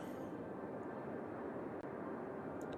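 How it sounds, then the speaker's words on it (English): A faint, steady airplane drone hums in the Cities: Skylines city-building game, a low continuous rumble with no talk over it. "Oh, I just saw a plane fly by."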